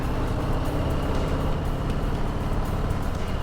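Steady road traffic rumbles along a UK street, a continuous low wash of engine and tyre noise with no single vehicle standing out and no speech.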